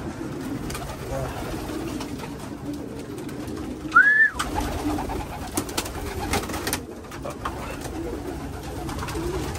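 A racing pigeon gives a single short coo near the middle of the clip after a four-mile toss, set against low background noise, with people talking at times.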